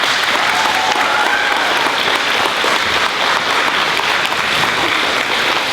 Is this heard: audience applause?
yes